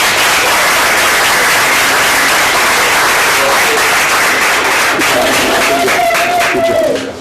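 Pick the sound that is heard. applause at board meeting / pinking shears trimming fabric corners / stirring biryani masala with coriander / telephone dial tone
applause at board meeting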